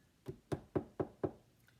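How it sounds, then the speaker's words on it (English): Five evenly spaced knocks on a wooden door ring out close and distinct, each with a short hollow thud, the rhythm steady over less than two seconds before falling silent. "When Cecil got to Mole's house, he knocked on the door."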